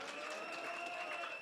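A crowd at a luncheon claps for the chef, a brief, even burst of applause at moderate distance with no voices.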